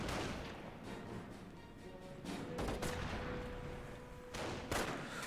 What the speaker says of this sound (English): we heard that sniper being firing.